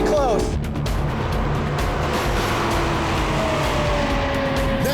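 A Lexus LFA and an Audi R8 supercar racing at speed, a loud continuous engine and road roar with rising tones, with someone talking excitedly over it.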